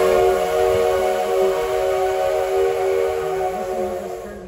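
A long, loud steady whistle blast sounds from an 1880 2-6-6-2 tank steam locomotive approaching Keystone Depot, a rich multi-tone chord held for several seconds with low rumbling beneath.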